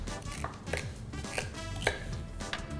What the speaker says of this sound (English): I will cut it into medium to large pieces. Same goes for the leek, as well as the celery stick